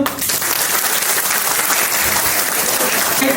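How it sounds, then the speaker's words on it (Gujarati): A group applauds a volunteer at a CPR training session in Rajkot, dense clapping from many hands rising quickly and holding steady at a loud, close level for the whole stretch. "ઉત્સાહી માટે તાળીઓ"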